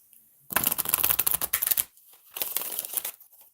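Tarot cards are shuffled close by in two quick riffling bursts, a rapid flutter of snapping cards followed after a short pause by a second, softer shuffle.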